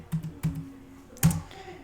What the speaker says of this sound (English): So you do click / on your keyboard, fill, click tab 3 times